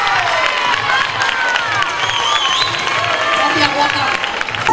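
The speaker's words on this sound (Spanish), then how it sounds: "Un aplauso, por favor." An outdoor crowd at a town festival stage show in Chauchina, Granada, claps and cheers loudly and steadily, with shouts and whistles scattered through the applause.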